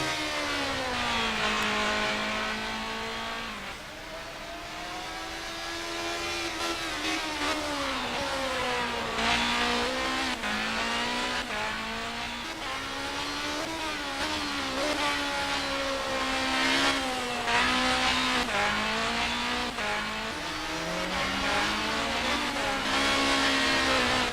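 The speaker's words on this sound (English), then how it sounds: "Really working those gears." A race car engine at the Hungaroring circuit, loud and continuous, revving up and down as it shifts through gears, with the pitch repeatedly climbing and dropping over a steady roar.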